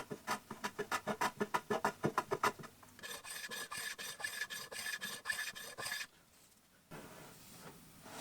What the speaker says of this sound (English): I like to add chamfers everywhere I can, so the angles won't break